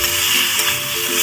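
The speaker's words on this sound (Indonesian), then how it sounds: "Aduk-aduk kembali." Chicken for garang asem, seasoned with sugar and flavouring, sizzles steadily in a pan as it is stirred, a close, continuous frying hiss with no talking.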